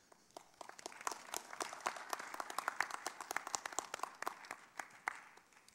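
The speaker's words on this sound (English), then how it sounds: "Let's give Carol one more round of applause." An audience at a faith and community event applauds, a dense patter of many hands clapping at moderate distance, swelling slightly and sustained for several seconds without talk.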